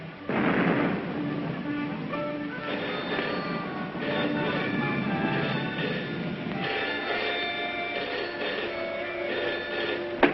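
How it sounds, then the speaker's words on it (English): Anti-aircraft guns firing in the distance, a dense, rumbling barrage of low booms and rolling reports that runs steadily through the whole stretch with no voices over it. "Listen, guns again."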